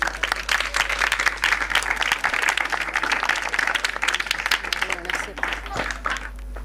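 Audience applause at a church Sunday school program as a guest is invited forward, dense steady clapping throughout with some voices mixed in.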